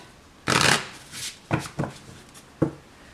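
Tarot cards shuffled by hand during a reading, one long riffle followed by several short, crisp bursts of card flutter, close and clear with no talking.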